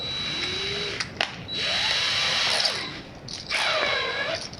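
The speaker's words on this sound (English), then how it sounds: "put on the drill." A power drill spinning a cylinder hone inside an engine cylinder whirs in bursts on a low setting, spinning up and winding down three times with a whining, rising pitch, close and fairly loud.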